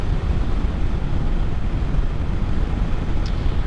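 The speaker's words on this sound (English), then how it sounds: "though there is quite a bit of wind" Steady loud wind roar buffeting the microphone on a Royal Enfield Interceptor 650 motorcycle cruising at highway speed, a dense continuous rush with no breaks and no talking.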